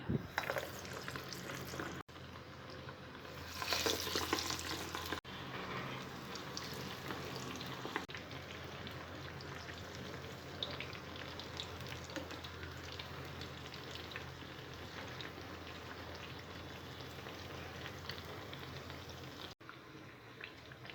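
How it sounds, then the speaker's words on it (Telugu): Amaranth and chana dal vadas deep frying in hot oil, giving a steady, soft crackling sizzle that runs throughout with no talk, briefly louder near the start. "తయారు చేసుకున్న వడల్ని వేడి నూనెలో డీప్ ఫ్రై చేసుకోవాలి"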